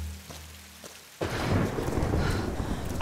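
Heavy rain and rumbling thunder from a stormy jungle in the video game Tomb Raider, beginning quietly and then surging into a loud, steady downpour with a dense low roar for the rest of the clip.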